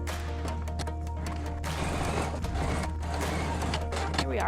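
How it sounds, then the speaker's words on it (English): A sewing machine runs a straight stitch along the edge of a knit cowl in gray thread, giving a steady mechanical whir with a continuous low hum and ticking needle rhythm, held close throughout. "we're going to sew this edge down, getting as close to the edge as possible with a straight stitch"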